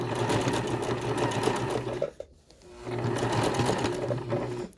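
A sewing machine stitches a patch onto ripped denim jeans, a steady close whirring hum that stops briefly midway and then starts up again at the same even pace.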